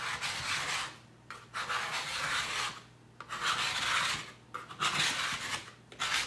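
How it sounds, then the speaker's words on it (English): A paste scraper drags across chalk paste in repeated rasping strokes, about five close scrapes separated by short pauses, with no talk. "It is called a paste scraper."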